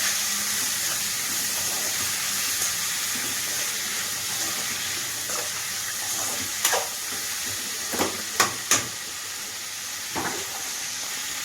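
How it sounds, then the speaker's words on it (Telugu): Broad beans and onions cooking in a pan give off a steady soft sizzle with a few sharp pops and clinks near the end. "చిక్కుడుకాయలు మగ్గుతుంటాయి."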